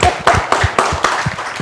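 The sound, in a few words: clapping hands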